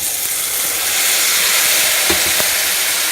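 Loud, steady sizzling of brinjal pulao frying in a pan as peas are added, a bright continuous hiss with a couple of soft stirring knocks near the end.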